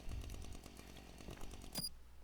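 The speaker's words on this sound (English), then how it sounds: "Shut up, chainsaw." A chainsaw runs at a distance with a faint, rough buzzing drone that pulses unevenly throughout, and a brief sharp click cuts in near the end; there is no talking over it.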